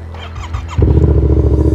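A Yamaha MT-07 motorcycle with an old, unchanged battery: the starter churns briefly, then the engine catches and settles into a loud, steady, close idle.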